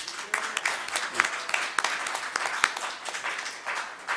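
Audience applause for a piano professor at a morning forum lecture on art and its era, a steady wash of many hands clapping at moderate level with sharper individual claps standing out, continuing throughout.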